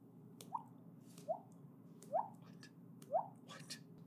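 A person imitates a water drop with the mouth, making four separate bright plinking pops spaced about a second apart, close and clear over a quiet room hum.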